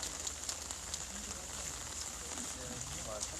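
Steady rain pattering on surfaces at an outdoor peace-action gathering in Soseong-ri, a soft continuous hiss with scattered drips, fairly faint, with low background voices.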